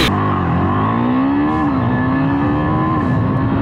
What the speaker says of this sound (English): I'm wondering how fast can this bike go from 0 to 100?